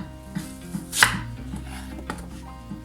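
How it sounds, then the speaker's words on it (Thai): A knife chops red shallots into small pieces on a cutting board, with a few sharp knocks and one loud, crisp strike near the middle, heard close up with no talking. "หั่นเป็นชิ้นเล็กๆนะคะ เล็กที่สุดเท่าที่จะเล็กได้นะคะ"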